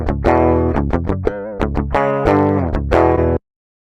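Electric guitar run through a Wave Shaper distortion plugin at its default setting, a string of loud, sharply plucked distorted notes and chords with bright buzzy harmonics, played alone and cutting off abruptly near the end.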